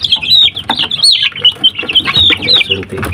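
Young Joper chicks cheep and peep loudly at close range, a dense flurry of high, rapid calls overlapping one another with some faint low handling noise beneath.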